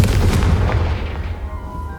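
Confringo fire spell explosion in the video game Hogwarts Legacy, a loud booming blast that rumbles and decays over about two seconds.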